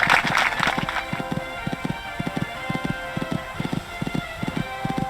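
Rapid rhythmic hoofbeats of a horse galloping and jumping fences in a cross-country horse trial, a steady drumming pattern with a brief louder burst at the start, heard fairly close.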